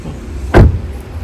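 Power tailgate on a 2017 Kia Sorento diesel, a single short, heavy thunk, close and loud, with a quiet background before and after.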